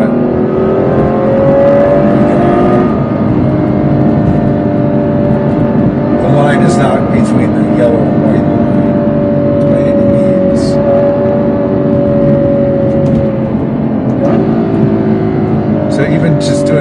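Ferrari GTC4 Lusso engine revving on downshifts, a steady loud engine drone with rising and falling pitch swells and brief blips, heard from inside the car along with faint talk.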